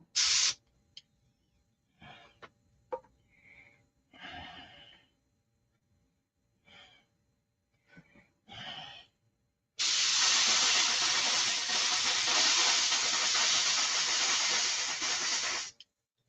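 A rattle can of spray paint spits and sputters in short uneven bursts, a few brief hisses separated by pauses, then settles into a long, steady, close hiss of spray for several seconds.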